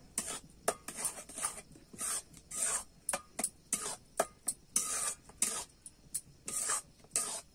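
Semolina is stirred into a dough in a bowl: close, rhythmic scraping and rubbing strokes repeat steadily throughout with no talking.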